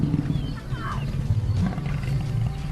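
Lions roar at Savuti Marsh, a deep, rumbling roar that carries on without a break over a dense, noisy wildlife soundscape.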